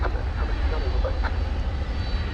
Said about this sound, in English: Got another UPS 767 on the move